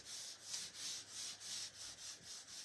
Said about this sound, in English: Just giving it a light sand with a very, very fine sanding block.